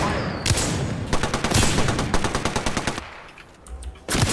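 Rapid automatic gunfire from the video game Apex Legends rattles in dense, fast volleys, loud and close, with a brief lull before another burst at the end.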